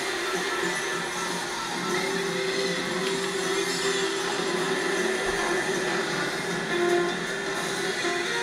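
Subway train rumble and rail noise on the Super Bell Subway track in the Mario Kart 8 Deluxe racing game, a continuous droning roar with a sustained horn-like tone, steady and fairly loud.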